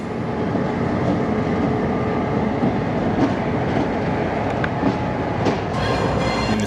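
GP38-2 diesel locomotive CP4422, a former Soo Line unit built in 1979, rolling with freight cars on a local switching job, a loud continuous rumble of engine and rail noise with clanking wheels and brief squeals.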